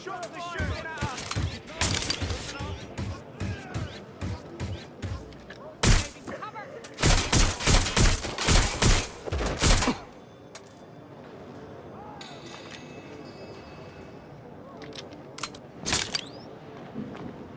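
Gunfire in Watch Dogs Legion, repeated sharp shots and bursts of automatic fire with loud clusters early on, then quieter scattered shots, with voices talking in between.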